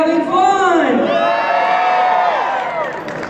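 An audience at an entertainment show shouts and cheers together in one loud, sustained roar with whoops, rising fast and then tapering off toward the end.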